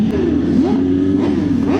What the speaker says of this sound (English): These lot are all revving their bikes